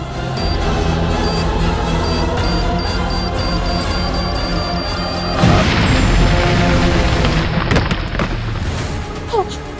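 A loud explosive boom and crash in a TV crime drama, erupting midway through a dense, sustained din of rumble and debris noise.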